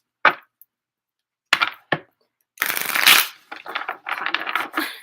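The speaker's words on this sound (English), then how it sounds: "We're going to get it shuffled," Tarot cards riffle and snap in several quick bursts, first short flicks with pauses, then longer rustling shuffles, close and crisp.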